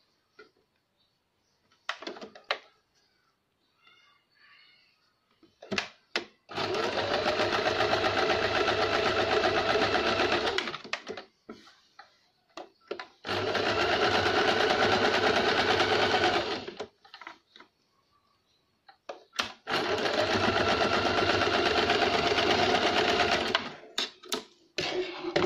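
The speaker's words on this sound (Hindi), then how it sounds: "इस तरह से दूसरे साइड को हम उसी तरह सिलाई लगाएंगे।" Sewing machine stitching a lined blouse in three long, loud, steady runs of several seconds each, separated by quiet pauses with small clicks and fabric handling.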